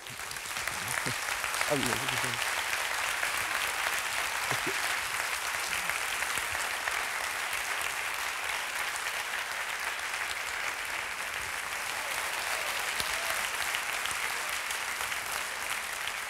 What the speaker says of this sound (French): il ne faut pas applaudir à chaque fois